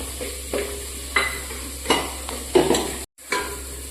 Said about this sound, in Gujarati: હવે બટેટાનો માવો નાખવાનો છે તો એ નાખી દઈએ